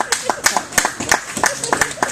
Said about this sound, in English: Thank you for applauding nothing.